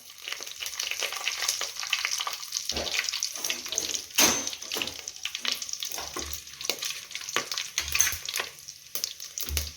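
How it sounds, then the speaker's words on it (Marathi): Whole spices and bay leaf sizzling in very hot oil, a continuous bright crackling hiss with occasional stirring knocks and pops, close and steady throughout with no talk. "खडा मसाला सुरुवातीला आपल्याला तेलात टाकायचा आहे सोबतच तेजपान"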